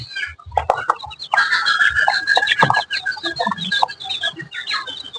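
Native desi chickens kept in a cage cluck and squawk loudly up close, their calls overlapping in a busy, continuous chatter with no talking.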